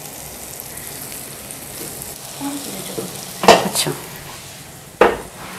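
Potato kebabs fry in a pan with a steady, soft sizzle throughout, punctuated by a few sharper clinks and scrapes of a utensil against the pan. Someone speaks briefly over the cooking.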